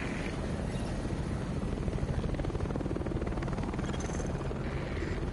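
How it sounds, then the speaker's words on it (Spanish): Helicopter in The Division video game, a steady loud rotor drone with engine buzz filling the whole stretch, close and continuous with no talk over it. "Helicóptero volviendo."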